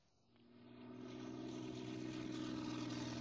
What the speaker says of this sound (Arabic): احنا الطيارة طبعا واضح موضوع يعني